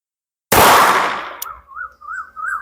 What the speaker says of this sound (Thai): โอเคปืน ยิง รีคอยนุ่ม นิ่ม มาก เลย ครับ สองนัดไปแล้วนะครับ